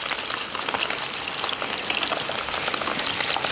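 Meatballs for a honey garlic dish deep-fry in hot oil, giving a dense, even crackle and sizzle that stays loud the whole time with no talk over it.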